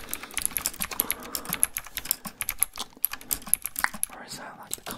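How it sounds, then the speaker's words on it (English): Fingers tap quickly on a mechanical keyboard, close up, with irregular bursts of crisp clicking keystrokes and a soft whisper in the background. "not the least expensive keyboard around, but it's very versatile. It's got mechanical switches"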